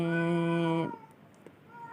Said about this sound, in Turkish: ay kedim o kadar bağırıyor ki